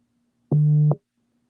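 One short electronic phone tone, a steady mid-pitched beep lasting under half a second, sounds clearly and alone against a faint low hum.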